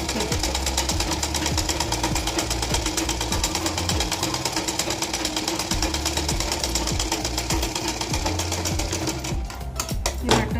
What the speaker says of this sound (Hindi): मशीन की सहायता से इस पे हम टच कर देते हैं, सिल देते हैं